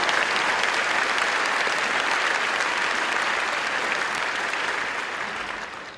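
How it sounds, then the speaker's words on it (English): An audience at a Mission Serve launch event claps loudly and steadily, a dense, even wash of applause that tapers off slightly at the end. "Another round of applause for her"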